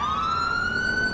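A loud, steady police siren wail in the video game GTA IV, rising slowly in pitch, close and continuous, over a low engine-like rumble.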